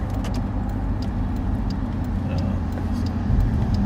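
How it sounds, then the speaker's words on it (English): A bus passing along a city street, a steady loud low engine and road rumble that holds throughout and swells slightly near the end, with faint traffic noise around it. "That's the bus."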